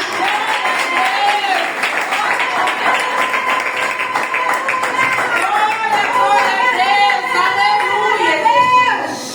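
Church congregation clapping in steady unison through a loud worship service, layered under sustained singing voices and music filling the room for the whole stretch.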